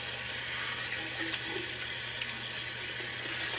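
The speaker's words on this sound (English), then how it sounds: "So let me get another cold water rinse in." Cold tap water runs steadily into a sink during a shaving rinse, a constant close splashing hiss with small drips and bumps scattered over it.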